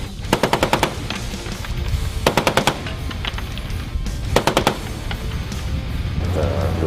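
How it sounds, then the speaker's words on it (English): Bursts of .50 caliber machine gun fire from a cutter during a Tradewinds 2015 training exercise, with three or four quick-fire volleys of several rounds each, loud and sharp over a steady engine and wind rumble. "from the cutter using 50 caliber machine guns"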